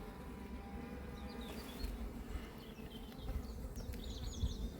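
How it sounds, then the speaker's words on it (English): Honey bees buzz steadily around an opened hive during a colony inspection, a dense, faint drone with occasional single bees flying close. "Wow, there's a lot of bees on there."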